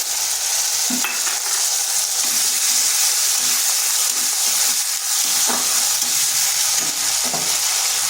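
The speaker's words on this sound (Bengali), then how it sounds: "পেঁয়াজটা ভাজা হয়ে গেছে দিয়ে দিচ্ছি আদা জিরা যে পেস্টটা করে রেখেছিলাম" Ginger-cumin paste hits fried onions in a pan, making a loud, dense, steady sizzle with faint scraping of a stirring spoon underneath.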